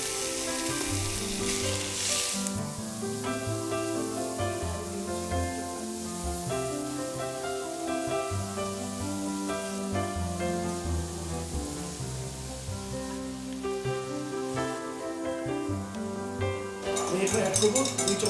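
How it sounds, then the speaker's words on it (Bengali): Onion and green chillies sizzle steadily in a hot pan for a Chinese vegetable dish, a continuous close frying hiss running under prominent melodic background music for the whole stretch. "আমি পেঁয়াজটা ছেড়ে দিচ্ছি। কিছু কাঁচামরিচ দিয়ে দিলাম।"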